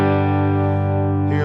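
A single sustained electric guitar chord rings out through a Boss Katana 100 MKII amp head with a clean, full tone, steady and loud, then shifts slightly at the end.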